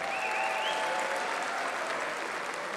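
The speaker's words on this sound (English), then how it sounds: "Round of applause, please," Audience applause at a Muay Thai kickboxing event, a continuous even roar of clapping from a large crowd, with a faint whistle-like tone drifting through the start.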